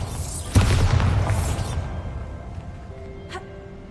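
A Bombarda blasting spell in Hogwarts Legacy goes off with one loud, close boom, followed by a rumbling decay and a brief later sparkle.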